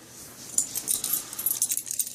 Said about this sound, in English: So I'm going to start with my keys